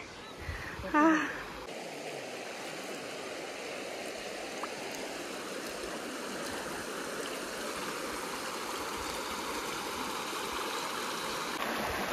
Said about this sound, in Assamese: এতিয়া নদীখন ক্ৰছ কৰি এইটো স্পটটো বাছি লৈছো